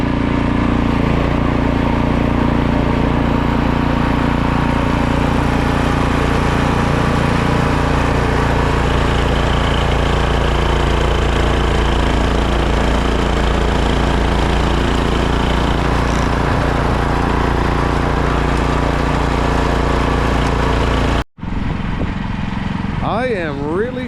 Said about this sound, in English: snowblower is working great now